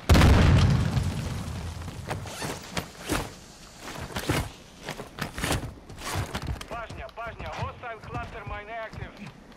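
Cluster strike explosions in Warzone 2, a loud opening boom followed by a rapid string of sharp bursts and pops scattered over several seconds, mixed with game noise and people talking.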